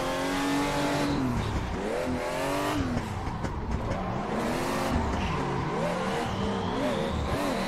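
A Nissan S14 drifts on a track in the Assetto Corsa racing game at a Japanese drift event, its engine revving and rising and falling continuously with tire squeal over the top, loud and up close throughout.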